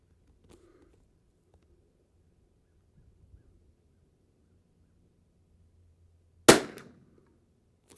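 A single sharp, loud crack from a Christensen Arms Ranger 22 rifle fired cold bore at a range with a ransom rest, ringing briefly after the shot and then falling quiet.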